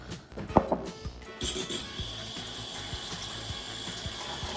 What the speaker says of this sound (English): It's good to rinse off mushrooms before you chop them